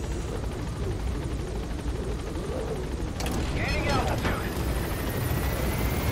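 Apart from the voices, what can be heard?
helicopter in Metal Gear Solid V video game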